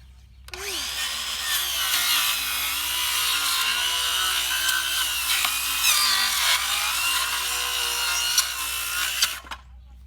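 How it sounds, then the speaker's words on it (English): A circular saw rips through pallet wood in one long, loud, continuous cut, the blade whining steadily from start to finish before abruptly stopping. "strike a line, and then use a circular saw first"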